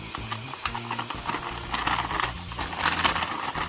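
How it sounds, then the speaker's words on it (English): A 10-ounce bag of frozen seasoning blend vegetables hits a hot pan. The result is a loud, crackling sizzle with rapid irregular pops and bursts of hiss, close by and with no voices. "So first thing first, we're gonna open up this bag of seasoning blend, 10-ounce bag. Just throw that in the pan."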